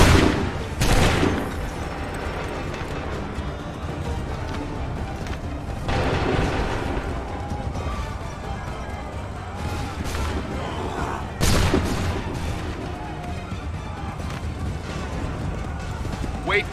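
Musket volleys in Assassin's Creed 3 crack out as several loud, booming bursts spaced several seconds apart, with shouted commands between them over continuous battle noise.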